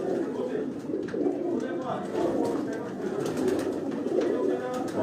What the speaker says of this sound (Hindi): ये बड़ा कबूतर है, ये बहुत पुराना कबूतर है।